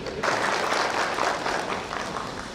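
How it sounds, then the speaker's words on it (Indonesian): Enthusiastic audience applause rises at a university graduation ceremony, a dense wash of clapping that begins abruptly and holds steady for a couple of seconds. "mari kita syukuri dengan memberi tepuk tangan yang meriah"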